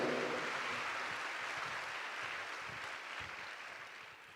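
Faint, steady clapping from a church congregation during a sermon, a continuous wash of many hands that slowly fades, heard from a distance with no voices over it.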